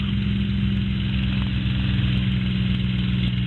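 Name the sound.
Spitfire aircraft engine throttling back to 2400 RPM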